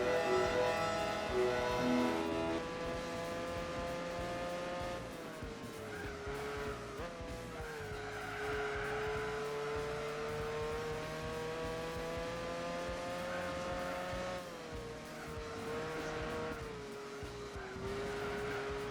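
Race car in Gran Turismo 4 on PS2, fitted with weight reduction, handling upgrades and an aftermarket exhaust, holds a steady rising and falling engine drone with tire squeal throughout, loud and continuous with no talk.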